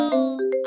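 A mobile phone notification rings out as a bright, clear multi-tone ding, close and fairly loud, a quick chime of a few overlapping notes lasting under a second.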